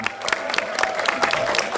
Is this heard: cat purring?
no